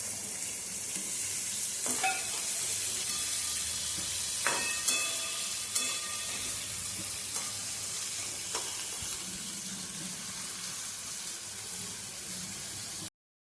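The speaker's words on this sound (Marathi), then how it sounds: "2 बारीक चिरलेले कांदे, 1 मिरची, ते पण तेलात टाकून आता भाजून घेणार आहोत।" Finely chopped onions and a chilli sizzle steadily in hot oil, a soft continuous hiss with a few sharp clinks of a utensil against the pan, close and without talk.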